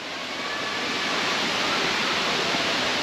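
Waterfall in Singapore with a city view nearby, a loud, steady rushing roar of falling water filling the whole stretch without pause and with no voices.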